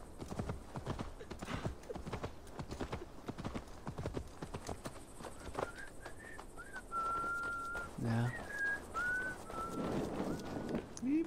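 Horse hooves clip-clop steadily at close range in the video game Assassin's Creed Valhalla, a quick running rhythm with a whistle and faint bird calls, while a voice talks over it.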